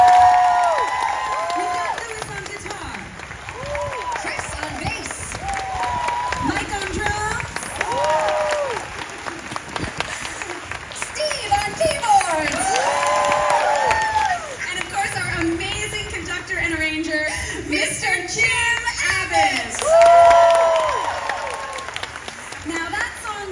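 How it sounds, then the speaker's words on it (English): A concert audience at EPCOT's Festival of the Arts applauds and cheers a band opening the Disney on Broadway concert series, sustained clapping and whoops rising and falling throughout, with loud voices and music over the crowd. "A huge round of applause for this incredible band."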